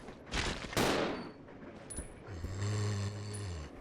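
Gunshots in Resident Evil 0, a couple of sharp loud shots with echoing tails, followed by quieter game sounds and a low humming tone, fairly close.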